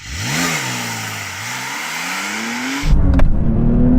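A Porsche 911 Sport Classic with manual gearbox accelerates hard from a standstill, its engine rising in pitch through a gear before a brief shift and a louder, rougher surge, close and loud.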